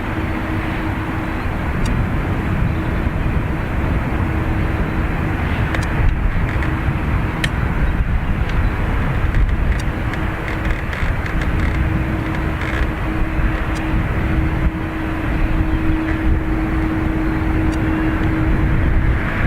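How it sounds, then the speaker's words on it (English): An Airbus A320 airliner takes off from Dublin Airport's north runway, a steady, loud jet engine roar heard from a distance that holds for a long stretch with a sustained tonal hum. "EI356 off to Munich next, this 320."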